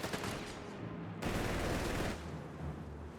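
Bren light machine gun fire in a Company of Heroes 3 battle, with dense, loud, continuous bursts of rattling gunfire that swell and overlap across the whole stretch, and no voices.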